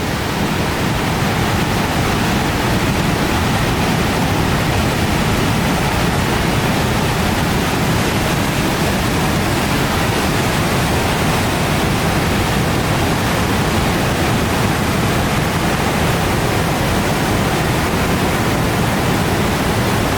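Floodwater of the Nar river pouring at great speed over a waterfall, a dense, constant roar of rushing water filling the whole scene without break.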